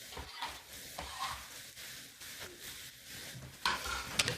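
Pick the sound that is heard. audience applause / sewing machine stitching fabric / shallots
shallots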